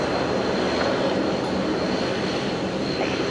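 The last Boeing 717 ever built lands at Brisbane Airport, a loud, steady jet engine roar filling the air without pause.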